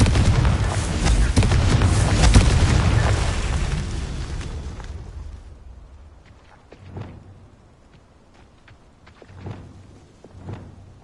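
A Confringo fire spell explodes in Hogwarts Legacy, a loud, dense burst of fiery roar and rumble that fades after several seconds, followed by a few fainter, scattered booms.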